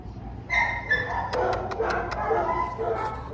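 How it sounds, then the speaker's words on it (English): A small dog barks and yips in a quick series of close, sharp bursts over steady background noise, with some faint voice-like sound mixed in. "Cute, isn't he, Bartholomew? You like little dogs better?"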